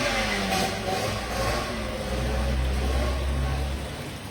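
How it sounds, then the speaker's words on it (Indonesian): A motorcycle with a loud aftermarket exhaust passes by, giving a steady, rough, low engine roar that holds for several seconds at fairly close range before easing slightly at the end. "Barusan gue pengen bahas tuh, ada motor suara brang-breng lewat."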